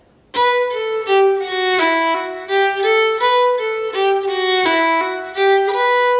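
A solo fiddle plays a quick reel phrase, bowed notes grouped in smooth slurred runs with a steady lilting rhythm, close and clear.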